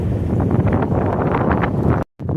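Strong wind blows outdoors, a loud continuous roar buffeting the microphone, cutting out abruptly for a moment near the end before resuming.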